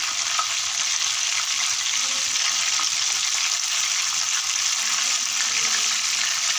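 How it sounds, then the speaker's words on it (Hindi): Chicken pieces frying in hot oil for a restaurant-style chicken fry, a steady dense sizzle and crackle that holds evenly throughout with no talking. "दूसरे पीस को भी इसी तरह से हम फ्राई करेंगे"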